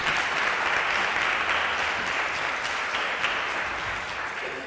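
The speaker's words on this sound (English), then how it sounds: "give her another round of applause" Sustained audience applause at a community leader celebration event, dense and even clapping from a crowd that holds steady before easing slightly near the end, with no talking over it.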